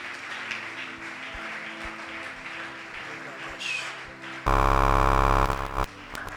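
A church congregation bursts into loud, dense applause and acclaim for Jesus, a sudden wall of clapping and cheering that follows a stretch of quieter hall sound and keyboard tones, then cuts off after about a second and a half.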